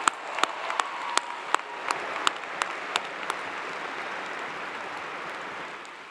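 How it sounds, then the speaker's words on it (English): A graduation audience applauds new master's degree recipients at a Clemson University fall ceremony, a broad wash of clapping from a large hall with a few sharp individual claps standing out, gradually fading over several seconds. "How about another round of applause for our newest master's degree recipients?"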